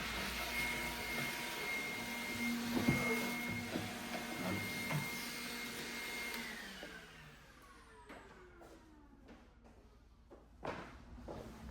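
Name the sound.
vacuum cleaner sucking dust and debris out of pinball machine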